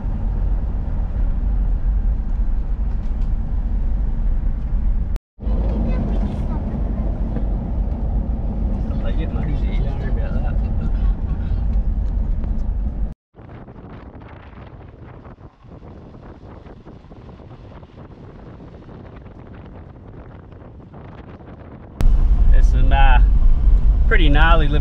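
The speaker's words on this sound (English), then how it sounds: "And we've hit some gravel road." A car towing a caravan rolls along a rutted gravel track toward a beach campground on Curtis Island, a low steady engine and road rumble mixed with wind buffeting across several abrupt cuts, one quieter interior-sounding stretch, and a louder burst at the end.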